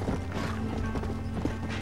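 Horse hooves clip-clop steadily while riding along a cliffside in the video game Red Dead, a continuous rhythmic trot heard at moderate level over a low game background hum.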